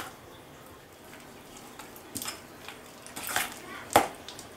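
Unsalted butter and crumbled blue cheese stirred together in a bowl for a compound butter: soft, close scraping strokes that grow busier midway, with a couple of sharper utensil clinks near the end over a quiet room.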